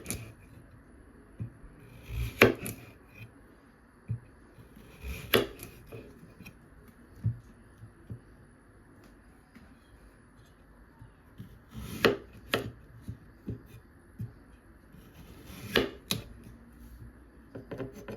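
Knife chopping food into wedges on a board, irregular sharp taps at close range, some single and some in quick pairs, with quiet gaps between cuts and no talking.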